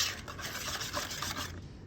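Peach cobbler batter being stirred together with milk in a bowl, a steady soft scraping and rubbing that runs continuously for under two seconds, then stops into near silence.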